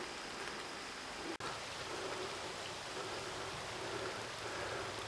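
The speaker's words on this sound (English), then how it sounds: "it was clouding up, and right away, boom, rain showers" Steady rain showers hiss outdoors beside a covered bridge in rural Wisconsin, an even, continuous wash of noise with one brief dropout partway through.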